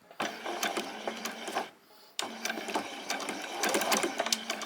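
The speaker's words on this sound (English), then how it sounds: "I'm just going to come on now and do a few stitches forward and then a few back" Domestic sewing machine stitching summer shorts fabric forward then in reverse, a rapid close mechanical chatter in two bursts split by a brief pause.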